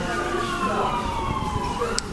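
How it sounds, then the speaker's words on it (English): Distant ambulance siren wailing faintly, its pitch sweeping slowly as it approaches on a city street in Los Angeles, under background street noise. "I could hear emergency vehicles,"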